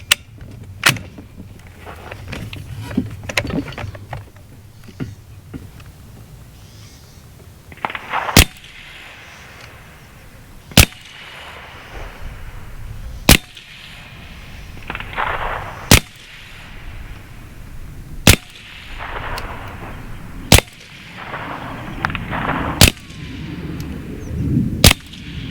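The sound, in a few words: AEA Terminator 30 cal PCP air rifle shots hitting targets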